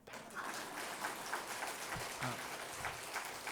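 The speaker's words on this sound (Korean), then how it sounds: "우리 집은 그냥 다 박수 한번 쳐봐." Church congregation clapping together during a Korean evening service, a dense, even patter of many hands heard at a moderate distance and fairly soft, continuing steadily throughout.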